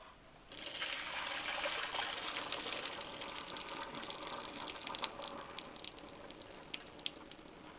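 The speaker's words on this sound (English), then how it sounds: "I'm going to drain it" Boiled rigatoni pasta water pours out into a sink in a steady rushing stream, starting abruptly and continuing with splashes and drips toward the end.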